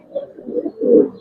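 A Giribaz pigeon at a loft coos in low, soft murmuring phrases, three swelling pulses with the last one fullest, close by and with no voices over it.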